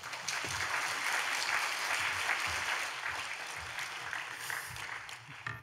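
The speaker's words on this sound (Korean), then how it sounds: "나오실 때 환영과 격려의 박수 부탁드립니다." A church congregation at a Wednesday service applauds to welcome a missionary speaker, sustained clapping from many hands that fades gradually toward the end.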